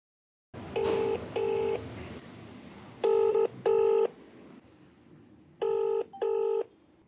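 A telephone call being dialed: pairs of clear dual-tone beeps repeat in three bursts, separated by short gaps over quiet background hiss.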